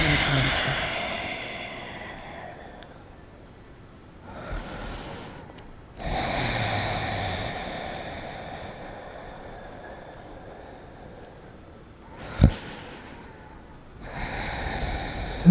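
A person breathes deeply and slowly during a seated yoga forward fold. Long, close, airy inhales and exhales follow one another in an even rhythm, with a sharp sniff near the end.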